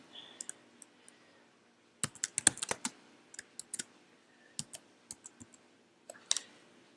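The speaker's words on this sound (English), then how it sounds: "I'm going to create a new layer and just start typing" Typing on a computer keyboard, close and fairly quiet, with irregular bursts of clicking keystrokes and brief pauses, and no talking.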